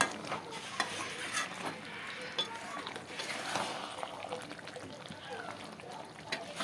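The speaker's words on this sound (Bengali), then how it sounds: "রসুনটা দিয়ে আরও কিছু সময় ভালো করে কষিয়ে নেব।" Garlic and chicken frying in a pan while being stirred, a steady textured sizzle with scraping strokes, close and moderately loud under a speaking voice.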